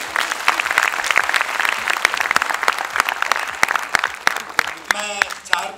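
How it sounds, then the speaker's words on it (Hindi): Audience applause rises at a Hindi Diwas comedy event at MAIMS Delhi, dense clapping under and between a comedian's talk, fairly loud and steady for several seconds. "तालियां भी बजाओगे एक बार।"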